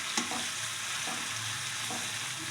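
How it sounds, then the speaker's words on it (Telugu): Chopped tomatoes frying in a pan for egg bhurji, a steady, dense sizzle with a few soft stirring scrapes, close and continuous with no talking. "టమాటోస్ యాడ్ చేస్తున్నా. టమాటోస్ కూడా కొంచెం ఫ్రై అవ్వాలి"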